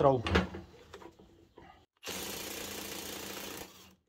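Parkside Performance PASSP 20 cordless impact wrench loosening bolts torqued to 950 Nm, a short burst of sound and a pause, then a sustained loud hammering rattle for about a second and a half before it stops.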